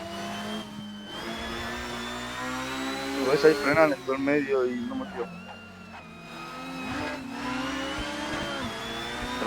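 A Honda NSX engine hums steadily on the Nürburgring, its pitch rising and falling as the car slows and speeds up, with excited talk inside the car over the engine.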